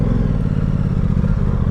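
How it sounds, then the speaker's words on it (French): Aprilia Tuono 660 motorcycle engine pulls away in a steady, loud, close low rumble with a throbbing pulse and no break through the sound. "un bruit vraiment hyper valorisant de grosse moto"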